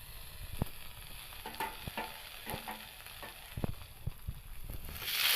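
Bhetki fish pieces frying with browned onions as a spatula stirs them, soft sizzling under repeated scraping and tapping of the utensil against the pan, fairly close, ending in a louder hiss.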